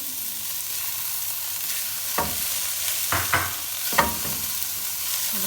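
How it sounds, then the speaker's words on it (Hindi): Boiled chicken being stir-fried and tossed with two spatulas for chicken spaghetti rolls, a constant hiss of frying with a few clear scrapes and clacks of the spatulas in the pan, close, and no one speaking. "इसमें 2 स्पैचुला के साथ आपने हर चीज़ को आपस में मिक्स करते जाना है।"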